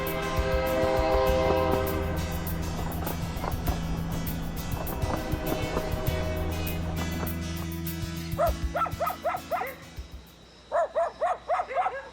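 Passenger train number 5633 at a rural station before dawn, a loud low rumble and hum with long horn-like tones, then rhythmic clanking bursts near the end, no talk.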